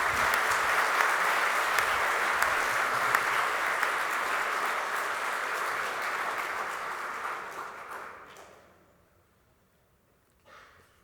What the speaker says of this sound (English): All right, about another cheer for Tyler.